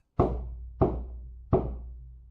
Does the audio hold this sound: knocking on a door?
yes